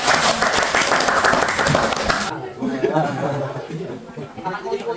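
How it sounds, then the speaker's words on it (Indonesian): A classroom of junior high students in Indonesia clap together in a dense burst for about two seconds, mixed with chuckles and chatter, then it cuts off and a voice talks over lingering murmurs. "Tepuk tangan untuk kita semua."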